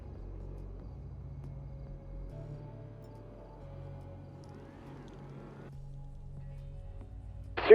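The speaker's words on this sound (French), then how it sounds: "C'est quoi ce véhicule énorme?" A huge vehicle in the game GTA RP rumbles past, a steady low engine drone holding for several seconds at moderate volume before a brief louder burst at the very end.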